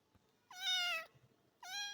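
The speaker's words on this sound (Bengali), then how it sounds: "একটা বিলাই আছে গাইস," A cat meows twice, each a drawn-out call about half a second long separated by a short pause, fairly quiet against a hushed background.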